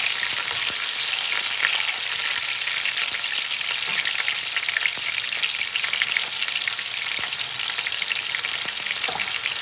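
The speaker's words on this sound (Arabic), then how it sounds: "هاكا بلاش مونتاج تسمعوا صوت القلير" Steady, dense sizzling of onions and peppers frying in hot oil, loud and close, with a constant crackle and occasional pops and stirring scrapes throughout.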